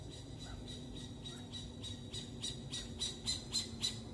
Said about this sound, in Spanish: Es una especie de lechuza o algo